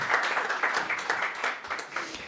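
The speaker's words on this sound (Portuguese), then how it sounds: "Bem forte aí, bom, as palmas para o Juliano." Audience applause at a public hearing on zoning law and a city master plan, steady dense clapping from a crowd filling the room for a couple of seconds without speech.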